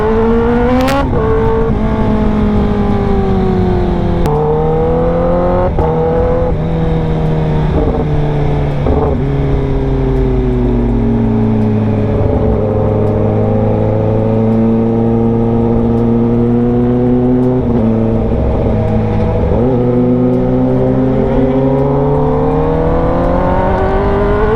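A Kawasaki ZX10R motorcycle fitted with an SC Project exhaust roars loud and close, its engine pitch climbing and dropping through repeated revs and gear changes in a steady, continuous ride with no talking.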